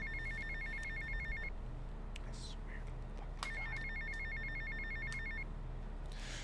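A payphone rings in Grand Theft Auto Vice City, two long bursts of a trilling electronic bell separated by a pause, over steady game background noise and a few faint clicks.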